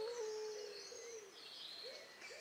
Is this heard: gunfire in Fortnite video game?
no